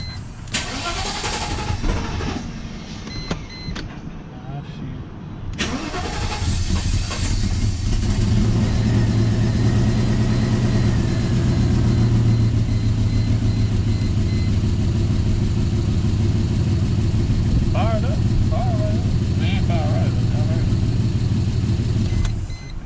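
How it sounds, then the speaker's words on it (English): A Mercedes-Benz W140 engine with Ford fuel injectors fitted and an exhaust leak from a missing clamp bolt, starting after some clatter and then running steadily and loudly, close by, with a low rumbling idle throughout. "Got an exhaust leak because I lost a bolt for the exhaust clamp"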